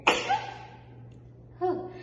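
A sharp, close sneeze bursts out, followed a moment later by a softer second sneeze-like exhale.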